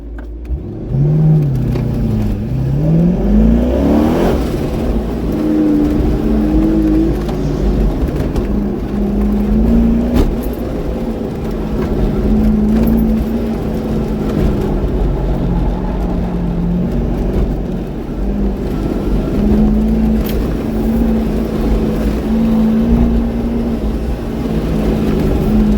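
A supercharged C5 Corvette engine on an autocross lap, loud and close, revving up early then holding a sustained drone that rises and falls with throttle and gear changes, no talking.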